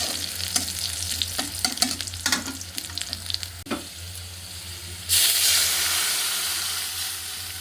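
Chopped onion and spices tempering in hot oil in a home kitchen: close stirring clinks and a light sizzle, then a sudden loud hissing sizzle that slowly fades.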